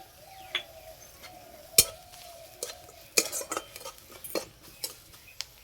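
A spoon stirs ground turmeric, cumin, garam masala, salt and powdered sugar in a bowl for a sattu paratha filling, giving light scraping and a few sharp metallic clinks against the dish, close and fairly quiet with no talk.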